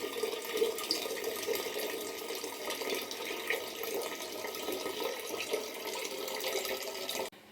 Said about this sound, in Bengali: আবার অ্যাকোয়াগার্ডটা চালিয়ে দিচ্ছি। এই শুরু হয়ে গেল।